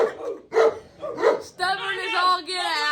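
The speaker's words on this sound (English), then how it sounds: "we have Sophie, who you hear barking now. She barks a lot." A Newfoundland dog named Sophie barks in a few loud, deep, close barks, followed by whining, yelping dog sounds, all in a home shared with several dogs.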